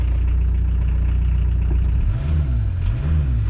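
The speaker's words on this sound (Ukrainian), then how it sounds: "Двигунчик шепче просто." A Volkswagen Golf 2 1.6 TDI diesel engine idles steadily and close by, a low even rumble that swells briefly into a gentle wavering rev near the end.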